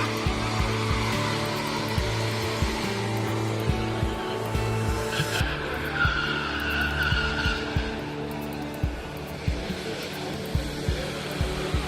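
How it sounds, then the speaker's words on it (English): Pure electric cars at the 2023 Maryland Auto Show drift in circles, tires skidding and squealing in long sustained bursts over a steady motor whine, with a busy crowd-filled hall ambience behind. "watch the pure electric vehicles driving around in circles"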